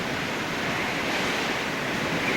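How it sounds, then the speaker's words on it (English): Hurricane waves churn steadily beneath a raised house floor, a dense, continuous roar of surf and wind with no distinct single impacts. "I hear the bottom of the floor pounding when them waves hit."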